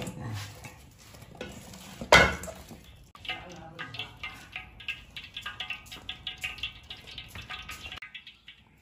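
Oil sizzles steadily as you mo dough snacks fry in a pan, with a sharp clatter early on and then a run of rhythmic scraping stirs, under faint background voices.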